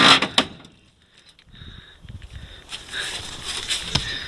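The cab door latch of a 1963 Ford F600 truck clicks and the door swings open, followed by light rustling, creaks and shuffling movement close by.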